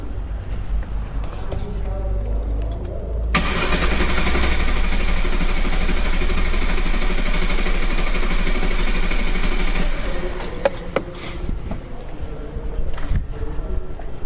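A car engine cranks over steadily on the starter during an automatic compression test of a four-cylinder motor, a loud continuous churning that runs for several seconds in the middle of the stretch, with quieter workshop noise before and after.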